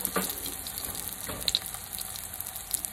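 Corn arepas frying in a pan, a soft continuous sizzle with faint crackles, fairly quiet and close, no voices.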